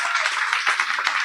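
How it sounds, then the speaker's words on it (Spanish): Audience applause for a presenter's guest at a live Spanish-language science talk night, a dense, steady patter of many hands clapping close by throughout, with no voices over it. "Por favor, un aplauso para Miguel Aguirre."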